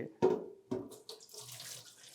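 Water splashes from a tap in short bursts as okra is rinsed under it, then settles into a thin steady trickle; close and fairly quiet.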